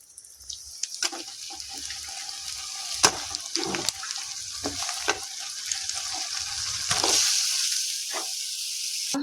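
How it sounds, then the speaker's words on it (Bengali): Broiler chicken meat hits hot spiced oil in a pan over lowered gas flame, giving a steady close sizzle with scraping stirs and occasional clinks, no voices. "গ্যাসটা আমি আর অল্প কমিয়ে দিলাম, দিয়ে দিলাম মাংসটা।"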